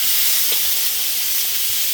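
Cut tofu hits a hot stir-fry pan with garlic and ginger, a loud, steady, bright hiss of sizzling oil that fills the whole moment up close.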